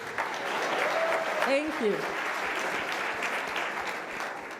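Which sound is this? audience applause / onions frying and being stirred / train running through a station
audience applause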